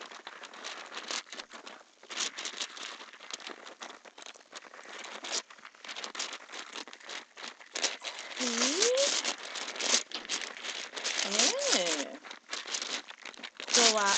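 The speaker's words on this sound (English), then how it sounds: "This is just tissue paper" Tissue paper wrapping from a clothing haul package crinkles and rustles steadily at close range, growing busier and louder toward the end, with a person talking over it.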